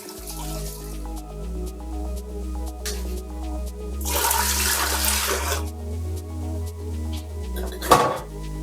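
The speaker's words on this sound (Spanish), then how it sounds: "Vamos a echar 1 litro de agua." Water pours into a Ninja Foodi multicooker pot heated on high sauté, a burst of splashing over a steady background hum with faint clinks of the pot.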